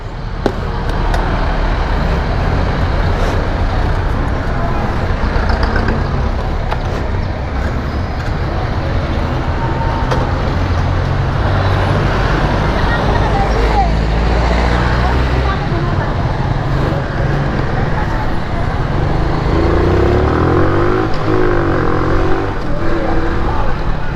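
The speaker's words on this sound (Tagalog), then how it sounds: "Iba talaga humataw yung motor na to." A 2017 Suzuki Smash motorcycle rides along a road, its engine droning steadily with wind rush and passing traffic throughout, loud and continuous.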